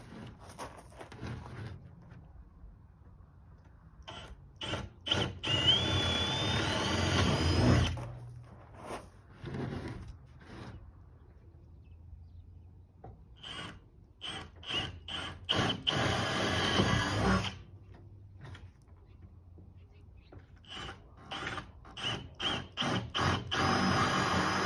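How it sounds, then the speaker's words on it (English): A power drill boring holes through wood for an insulated floor on a Harbor Freight square drop camper build, sounding in several loud bursts of whirring separated by quieter pauses, close by. "So let's drill these, see what we got."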